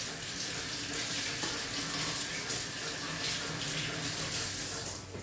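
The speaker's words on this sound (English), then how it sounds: "I'm going to wash my hands" Running tap water pours steadily into a sink as hands are washed, a continuous close hiss with faint splashing, ending abruptly as the flow shifts near the end.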